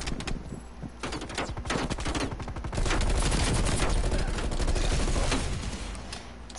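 Nail gun fired in Call of Duty Cold War, a rapid stream of loud, sharp gunfire bursts close up, continuous through most of the stretch with a brief lull near the start.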